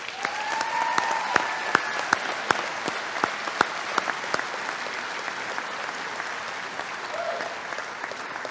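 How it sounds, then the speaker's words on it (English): A crowd at a high school graduation ceremony applauds steadily, a dense patter of clapping with a few sharp, louder claps standing out and faint whoops over it. "So a round of applause for everybody."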